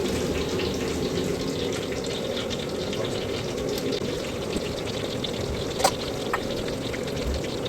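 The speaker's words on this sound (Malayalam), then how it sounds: "ആവശ്യത്തിന് വെള്ളം ഒഴിക്കുക." Water poured steadily into a pot while making Kerala-style laddu, a continuous close trickling stream lasting throughout with a couple of faint clinks near the end and no talking.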